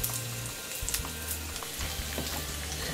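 Chopped onion frying gently in a pan of oil over low heat, a soft steady sizzle with faint crackles and small pops throughout, no voices.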